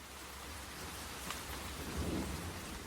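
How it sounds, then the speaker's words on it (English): Hard rain pours steadily in a dense, hissing wash, with a low rumble of thunder rolling in partway through, all fairly quiet and without voices. "The only sound is that of the hard rain."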